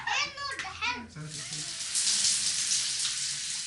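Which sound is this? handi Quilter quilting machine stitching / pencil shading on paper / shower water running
shower water running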